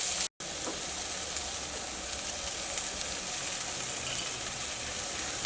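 Cooked rice stir-fried with capsicum and vegetables in a hot pan gives a steady close sizzle and hiss, with a brief silent cut near the start.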